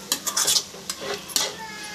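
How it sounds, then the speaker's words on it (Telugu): Carrot fry being stirred in a pan after chili powder goes in, several close scraping strokes of a spoon against the pan over a light sizzle, no talking. "కారం వేసుకొని కొంచెం కలుపుకున్నాము."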